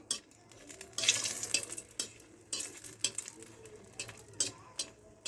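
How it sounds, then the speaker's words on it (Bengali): A dried red chilli fries in oil in a quiet kitchen, its soft sizzle broken by intermittent clinks and scrapes of a spoon against the pan. "একটা মরিচ ভেজে নিচ্ছি।"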